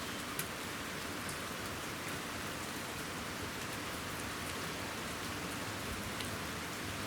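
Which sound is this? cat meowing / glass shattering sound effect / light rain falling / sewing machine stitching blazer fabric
light rain falling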